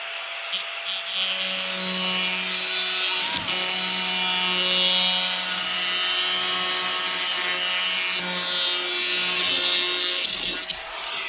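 A jigsaw cuts through wood for a chicken tractor build, giving a loud, continuous buzzing rasp that holds steady for about eleven seconds with brief dips in pitch.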